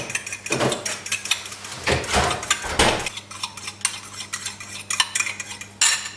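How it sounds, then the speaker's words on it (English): Eggs whisked by hand in a bowl while baking cinnamon rolls, heard as a series of rapid clattering scrapes of metal against the bowl in short bursts, fairly close and alone. "I'm just going to give it a whisk. I absolutely love whisking eggs."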